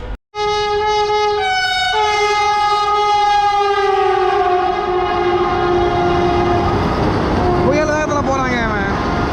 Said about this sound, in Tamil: இது நம்ம ட்ரெயினே கிடையாது லோக்கல் ட்ரெயின் இது